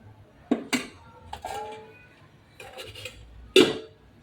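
A metal lid is set on a cooking pot of rice and potatoes in a home kitchen, giving a few sharp, close clinks and clanks separated by quiet pauses.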